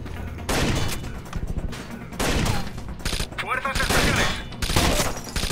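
Rapid bursts of gunfire in the Rainbow Six Vegas video game, loud, repeated volleys with short pauses between them, with radio-style voices talking over the shooting.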